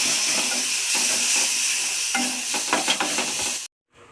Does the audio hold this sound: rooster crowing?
no